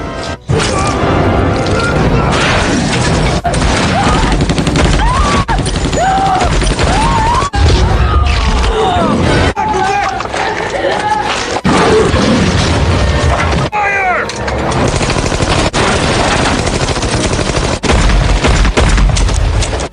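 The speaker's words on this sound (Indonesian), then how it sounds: "Setelah memberondong beberapa peluru ke rumahnya psikopat" Bursts of movie gunfire as men spray bullets at a house in the slasher film Hatchet III, loud and dense, with booms and crashes over a busy soundtrack and brief voice fragments.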